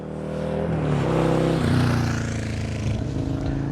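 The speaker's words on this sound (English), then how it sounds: "There is a motorbike coming past." A motorbike passes on a road, its engine drone fairly near and steady, with pitch shifting as it goes by, no voices.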